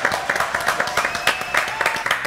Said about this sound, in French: Applaudissements pour Julien Bitoun qui sera là après la pub.